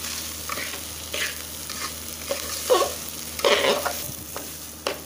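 Rice dry-roasting in a pan for a Kolhapuri-style brinjal rice dish, stirred with a spoon in repeated scraping strokes over a steady low sizzle, close and moderately loud, with no talking.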